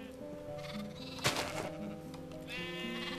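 A sheep in the video game Minecraft bleats several times at moderate volume over quiet background game music, with a brief louder burst partway through and no talking.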